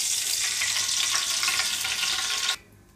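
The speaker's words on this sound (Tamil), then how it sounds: "எண்ணெய் ஊற்றிக்கலாங்க." Cooking oil poured into a pot while making mushroom biryani gives a steady, close hiss-like pour that runs for about two and a half seconds, then stops abruptly, leaving a faint quiet background.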